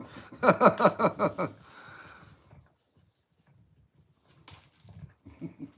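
A dog gives a quick run of short, loud barks or yips, then quiets; later, faint snuffling and a brief rustle follow.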